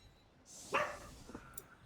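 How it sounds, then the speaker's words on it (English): A pet dog indoors lets out a single sharp bark followed by a shorter softer yip, moderately close, with no talk over it. "Sorry, that's my dog."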